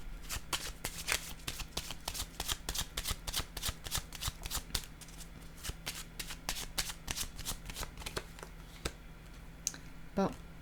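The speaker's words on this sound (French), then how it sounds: "Je vais déposer une carte ici." Tarot cards are handled up close in a fast, even stream of crisp papery snaps and slides, then a card is laid down with a soft slap near the end, over a faint low hum.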